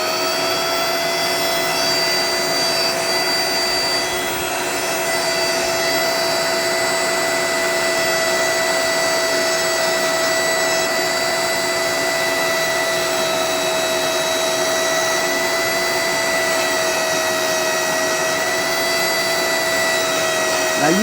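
Flex shaft rotary carving bit grinding into a wooden beaver carving, a steady loud high whine with a constant motor hum running without a break for about twenty seconds.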